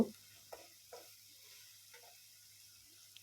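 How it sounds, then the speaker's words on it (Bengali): Dried fish (shutki) frying with spices in a pan makes a faint, low sizzle, broken by a few soft clicks from stirring, with no talk. "যেটা কিন্তু খুব ভালোভাবে ভুনে নিয়েছি মশলার সাথে মাছটাকে"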